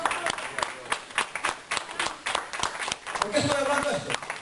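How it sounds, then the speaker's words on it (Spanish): Church congregation clapping at a Sunday sermon, irregular claps with sharp individual hits rising and falling, while a voice speaks over the end. "Yo que usted le diera un aplauso"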